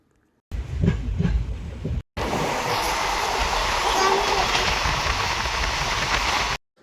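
A passenger train runs near Shirur station on the coastal line, with a loud, steady wheel-and-track roar and rhythmic clatter that briefly cuts out, then resumes and holds before stopping abruptly.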